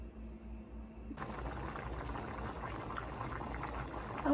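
White rice boils in a pot with a soft, steady bubbling and simmering hiss that begins abruptly after a quiet moment and continues evenly, with a few louder pops near the end.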